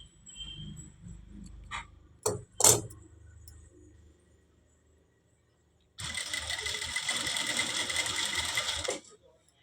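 A sewing machine stitches the corner edge of a saree, running steadily and loudly for about three seconds after earlier clicks and handling noises with a faint voice.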